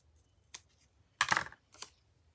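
Scissors trim the neck of a colourful craft-paper giraffe with a few short, crisp snips close by: one quick cut, a longer cutting stroke, then a final snip, with no talking.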